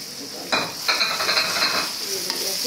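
Yogurt is added to a mutton kofta curry masala and sizzles in the hot pan. The frying starts with a sharp burst, then settles into a steady crackle, broken by stirring scrapes close to the pan.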